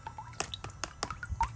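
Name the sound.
water dripping from bucket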